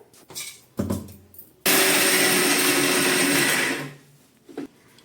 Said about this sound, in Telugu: ఆ టైప్లో జారు పట్టేద్దాం మిక్సీ జారు